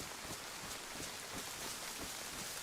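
Steady rain falling in a video game, a faint, even wash of patter with no distinct drops or thunder, heard alone.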